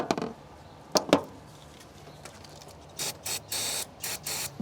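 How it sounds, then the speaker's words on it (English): A few short hissing bursts of silicone electrical aerosol spray, close up, with quiet clicks of handling between them. "I'm just gonna hit it with some, I got silicone electrical spray."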